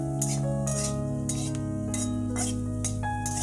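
Garlic cloves and black cumin frying in oil in a pan while a utensil stirs, giving steady sizzling under repeated scraping and clinking strokes, close and moderately loud.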